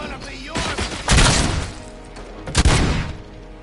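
Gunfire in the game Robocop: Rogue City, two heavy blasts about a second apart with a few lighter cracks around them, loud and booming over a steady background.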